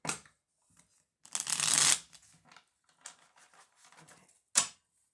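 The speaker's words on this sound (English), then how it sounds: "all right, one more shuffle and we'll start." A deck of tarot cards is shuffled in several quick, crisp riffling bursts close to the microphone, separated by short quiet gaps in an otherwise silent room.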